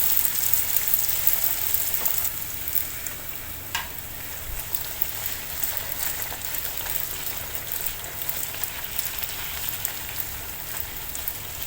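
Pathir peni puff pastries fry in hot oil as it is spooned over them, making a continuous close, loud sizzle with a faint scrape or clink now and then.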